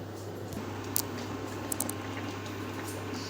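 Water heating in a pot for steaming, a low steady hum and bubbling murmur with a few faint clicks and small splashes, quiet and without speech.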